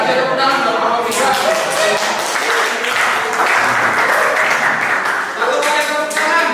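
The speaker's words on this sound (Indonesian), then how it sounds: "Kasih tepuk tangan untuk kelompok 3." Classroom applause for a student group at a vocational high school: dense, close clapping from many hands that runs steadily throughout, with voices speaking over it.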